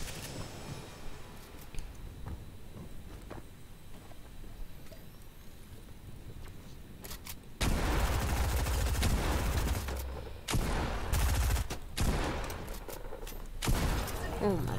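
Machine gun fire in the Fortnite video game comes in loud, dense bursts after a quieter stretch of ambient game sound, with several separate volleys crackling close up.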